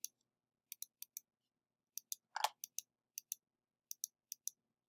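A computer mouse clicks sharply and close, in quick pairs and single taps spread across a few seconds, with one brief louder rustle in the middle and otherwise quiet surroundings.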